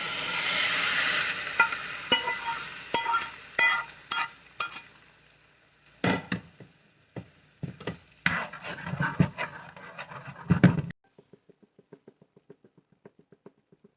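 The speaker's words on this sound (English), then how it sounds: "now that our sauce is boiling for our poached fish" Poaching liquid sauce with shallots and garlic bubbles and sizzles in a pan, with stirring and utensil scrapes over a steady hiss, then a sudden drop to a few faint ticks.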